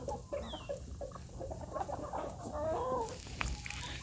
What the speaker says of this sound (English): That noise, that's that rooster right there.